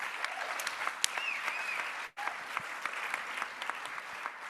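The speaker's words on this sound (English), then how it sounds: "A round of applause, please." Sustained audience applause from a large crowd at a business event, a dense, even clatter of clapping with a few brighter individual claps and a momentary dip partway through.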